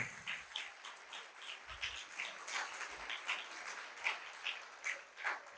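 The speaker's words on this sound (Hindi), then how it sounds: "एक बार फिर से जोरदार तालियां बजाएं बादशाहों के बादशाह के लिए।" A church congregation claps at a Hindi-language Christian sermon, a thin, steady patter of hands with distinct individual claps pulsing through, moderately distant and without talk.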